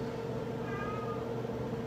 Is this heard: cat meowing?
yes